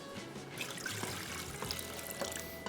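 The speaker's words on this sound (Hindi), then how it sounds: "पानी शामिल कर देंगे" Water is poured into vinegar for a pickle brine, a steady close splashing trickle of liquid filling a container, continuous and moderately loud with no talk.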